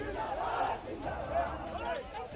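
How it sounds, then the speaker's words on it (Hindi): Crowd of political supporters chanting slogans while marching in a procession, a dense, continuous roar of many voices with rhythmic shouted bursts, fairly loud and close throughout. "नारेबाजी भी कोई और नहीं बल्कि कुछ घंटे पहले तक महागठबंधन के साथी रहे नेता और उनके समर्थक कर रहे हैं"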